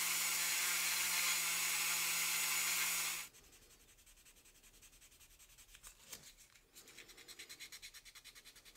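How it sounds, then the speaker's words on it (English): Hand sanding of lettering on a model vehicle: a loud steady scrape gives way after a few seconds to quieter, rhythmic back-and-forth scratching strokes. "I'm just going to keep on sanding that down"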